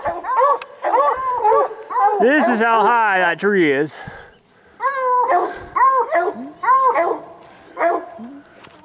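Hunting hounds bay and bark in long wavering howls at a treed bobcat in Colorado, the pack loud and close, with someone talking between the calls.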